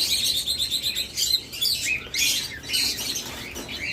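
Pet birds kept in breeding pairs at a farm, albino and classic varieties, twittering in rapid high overlapping chirps that fill the space continuously.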